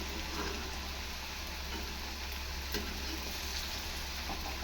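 Ridge gourd fritters (vadas) fry in hot oil with a continuous close, crackling sizzle that holds steady throughout, with a few faint pops.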